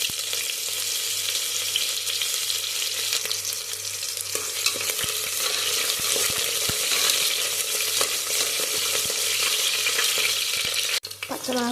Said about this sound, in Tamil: எண்ணெய் நல்லா சூடாயிடுச்சு. இப்போ வந்து கடுகு போட்டுக்கலாம். வெங்காயம் போட்டுக்கலாம்.